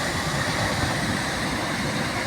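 A waterfall at Naldurg sends a continuous broadband roar of falling water, steady and fairly loud with no pauses, and no voices over it.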